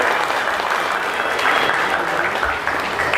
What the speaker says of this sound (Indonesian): Kasih tepuk tangan untuk ketua pimpinan DPP.